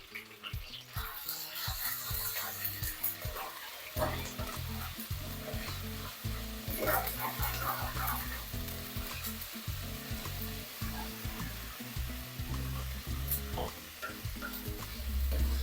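Ginger garlic paste and curry leaves fry in a pan with a loud, continuous sizzle broken by scraping stirs, heard up close.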